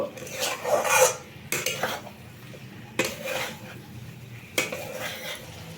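A mustard and poppy seed spice paste mixed with moringa drumsticks in a metal pan, heard as bursts of scraping, rasping stirs and clinks of a spoon, separated by short pauses.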